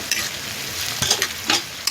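Finely chopped onion sizzles loudly as it goes into hot fat with bay leaf, cloves and peppercorns for a village chicken and mutton dish, with a steady fry and a few stirring scrapes close by.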